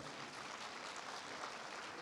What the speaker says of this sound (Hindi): जरा ताली बजाइए अच्छे से।